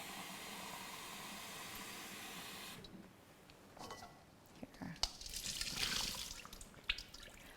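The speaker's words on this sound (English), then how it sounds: "so once we rinse these off, so I'm going to get rid of some of the water here, and we'll rinse these" Soaked quinoa grains are rinsed with water in a strainer, a faint trickling and splashing that swells toward the end after a quieter stretch of hiss.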